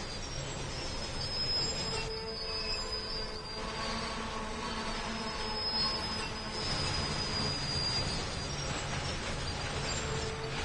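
Long freight train of refrigerator cars and box cars rolling steadily in Train Sim World 2 on Sherman Hill near Laramie Yard, a continuous loud rumble with high-pitched wheel squeal throughout, no talking.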